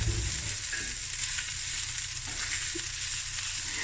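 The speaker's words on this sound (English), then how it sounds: "Stir fry it now for about 2 minutes and then it's done." Lamb chops sizzling as they are stir fried in a pan with cabbage fried rice, a continuous close hiss and crackle with faint stirring scrapes.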